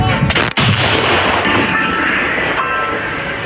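A single 2S7 Pion self-propelled artillery gun fires with a sharp, loud blast, followed by a long rumbling echo that slowly fades.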